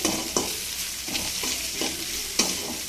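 Okra with salt and turmeric fries in a pan, a steady sizzle broken by several distinct stirring scrapes at roughly regular intervals, close and alone.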